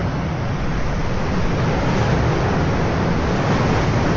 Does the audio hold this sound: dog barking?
no